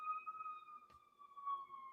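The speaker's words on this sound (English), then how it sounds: "can you guys hear that? It's a siren." A street siren in Chicago wails from a distance, a faint sustained tone sliding slightly in pitch, steady across the whole moment with no talk.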